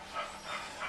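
A pet dog gives a short burst of soft barking and whimpering yips indoors, close and moderately loud, lasting under a second.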